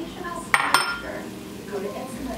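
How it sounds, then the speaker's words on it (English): Seasonings are dumped into a pot of soft cooked vegetables for vegetarian chili, with two quick metallic clinks of a container knocking the pot, then a quiet soft rustle and faint kitchen background. "I'm going to take my seasonings and just dump that whole thing in there."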